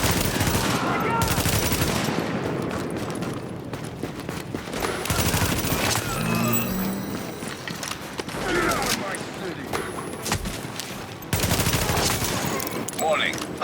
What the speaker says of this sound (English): JTF under heavy fire at the park on 1st.